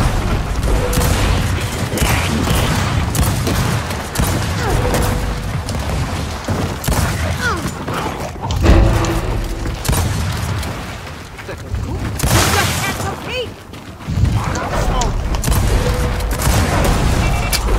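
Rapid gunfire bursts from Gears of War 4 on the Clocktower map keep crackling across the whole stretch, mixed with booms and battle noise, while players talk over the action.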